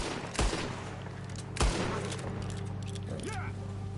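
Two loud gunshots ring out about a second apart in Red Dead Redemption 2 as a bear looms ahead, over a steady game ambience and background music.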